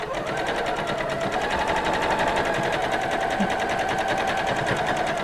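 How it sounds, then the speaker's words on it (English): A sewing machine runs steadily while stitching a garden apron, its fast, even needle clatter continuing without pause and close by. "I'm going to go ahead and begin my stitching."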